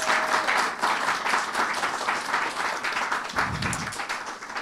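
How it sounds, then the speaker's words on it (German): An audience at a stand-up comedy show in Hannover breaks into applause, a thick, even wash of clapping from many hands that holds steady at moderate loudness, with a brief low thump partway through. "Gib mal noch einmal fetten Applaus für Jürgen"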